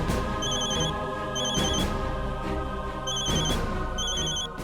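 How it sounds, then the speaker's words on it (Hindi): A telephone rings in repeated bursts, its electronic trill recurring several times over a low background hum. "आनंद का फोन। उठाइए ना।"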